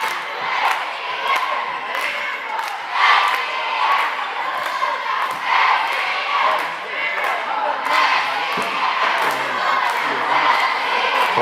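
A high school boys basketball gym crowd cheers and shouts through a timeout break, a loud, steady roar of voices with rhythmic clapping or stomping peaks repeating throughout.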